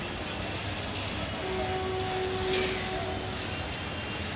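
Busy platform ambience at Chattogram railway station in Bangladesh, a steady broadband wash of crowd and machinery noise with a faint tonal hum or whistle drifting through the middle, no clear speech.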